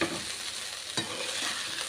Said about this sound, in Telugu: రైస్ కొద్దిసేపు ఇలా ఫ్రై చేద్దాం